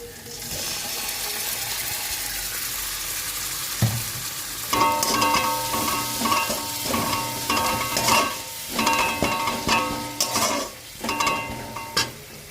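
Tomato paste is stirred and sautéed in hot oil in a pan for a Bengali mutton and katla fish kalia, a steady sizzle with scraping spatula strokes growing busier after a few seconds.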